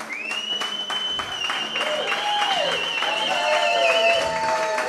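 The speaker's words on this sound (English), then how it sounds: "give her the biggest round of applause when she comes in" An audience at a book signing in Malibu applauds, sustained clapping from a crowd while music with tonal lines plays over it.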